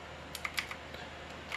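Repeated taps on a computer keyboard's delete key while the PC boots up to enter the BIOS of an Asus Prime H610M-E D4 motherboard: light, quick clicks that come irregularly over a faint steady hum.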